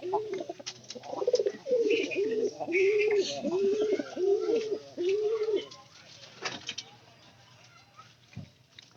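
White pigeons, a pair of domestic birds, give a run of throaty rhythmic coos, about six repeated phrases in close succession, near and clear, followed by quieter rustling and a few soft sounds.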